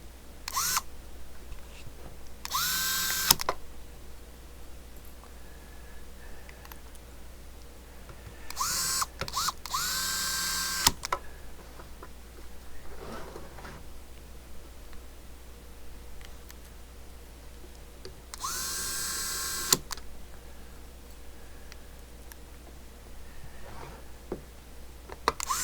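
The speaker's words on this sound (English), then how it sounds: "let's get the screws back in this thing" Screws go back into the case of a Galaxy DX959b CB radio in a quiet room, with a few short bursts of ratcheting screwdriver clicks separated by long stretches of near silence.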